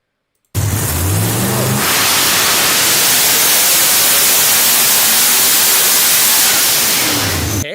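A car with a built Ford Coyote engine running at full throttle, a loud, dense and harsh roar that bursts in after a brief silence and holds steady and saturated for about seven seconds.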